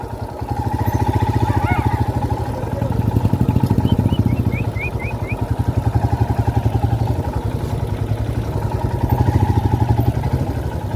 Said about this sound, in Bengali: চলো বাইকটা একটু পার্ক করে ফেলি আগে